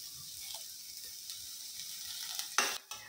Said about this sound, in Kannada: ಈಗ ಇದನ್ನೆಲ್ಲ ಚೆನ್ನಾಗಿ ಒಂದು ಸತಿ ಫ್ರೈ ಮಾಡ್ಕೊತಾ ಇದ್ದೀನಿ